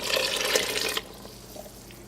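Vegetable broth is poured into a pot of black bean soup, a brief splashing gush of liquid lasting about a second before cutting off to quiet.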